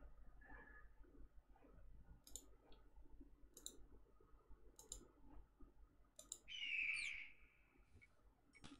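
A bird in the video game Tex Murphy: Under a Killing Moon gives short, sharp chirps and clicks at intervals, ending in a brighter, louder call over a quiet background.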